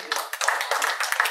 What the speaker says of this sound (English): A big applause for everyone.